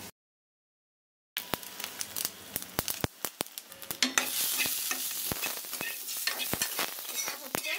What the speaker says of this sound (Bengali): দেবো সরষের তেল, এর মধ্যে একটু ধনে জিরে ভেজে নেব।